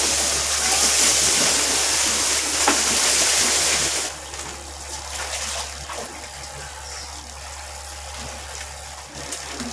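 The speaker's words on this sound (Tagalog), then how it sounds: "Lagyan na po muna natin ng tubig para sure po tayo na di po siya ma-stretch" Water pours steadily into a thin tarpaulin pond, a loud broadband rush that drops to a quieter trickle partway through, with a low steady hum underneath.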